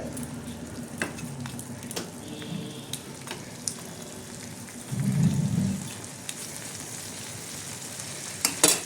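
Prawn chop mixture simmering in a pan, a soft continuous bubbling sizzle with occasional light taps and clicks, one louder burst of bubbling midway, fairly quiet and close.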